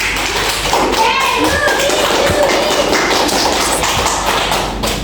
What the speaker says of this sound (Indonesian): Baik, kita kasih aplaus dulu.